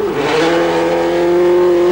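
A rally car on studded tyres races on an ice track in about −15 degrees, its engine loud and close, holding a steady high drone with a brief pitch shift at the start.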